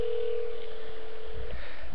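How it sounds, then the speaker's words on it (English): A steady telephone dial tone hums for about a second and a half, then cuts off with faint handset noise. "Well, we gotta dial tone."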